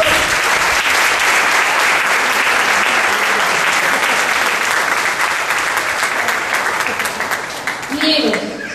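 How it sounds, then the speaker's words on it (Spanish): Worshippers in a church service clap loudly and continuously, a thick, sustained roar of applause that stays strong for most of its length before thinning slightly near the end, with some voices underneath. "Yo creo que usted le da un aplauso al Señor."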